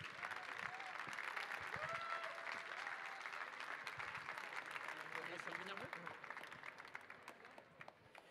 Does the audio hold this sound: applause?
yes